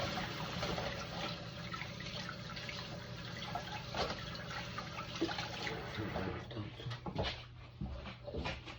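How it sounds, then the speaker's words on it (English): Running tap water pours steadily as hands are washed under it in a home kitchen while barbecue ribs are being prepared, with faint splashes and handling sounds throughout. "wash my hands, people"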